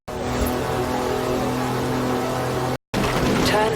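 A Mercedes wagon with a roof rack and chunky off-road tyres revs and accelerates in Forza Horizon 4, a steady loud engine drone that cuts out briefly before resuming.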